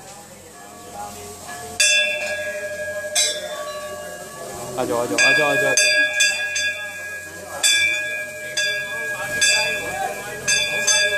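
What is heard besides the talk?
temple bell being rung at Bagnath temple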